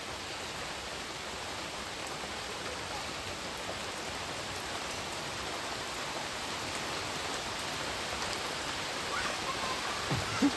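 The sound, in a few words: rain falling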